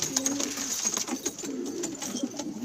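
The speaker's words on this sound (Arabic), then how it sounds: "كلها حمام حلوة على الأول" Pigeons for sale at an Arabic bird market, a steady soft cooing from several birds close by, repeated low throaty calls over a bright chirping and clattering background, with no talk.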